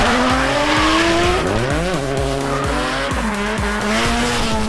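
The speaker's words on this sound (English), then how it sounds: "Specifically, rock crawlers." Rock crawler trucks driving in Japan make loud engines rise and fall in pitch, with repeated sweeps and rhythmic pulsing and a harsh tire-squeal-like whine over the top, close and continuous with no talk.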